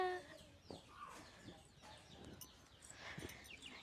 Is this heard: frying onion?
no